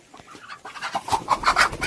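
Free-range country chickens cluck close by, a short run of rising, rhythmic clucks that grows louder toward the end.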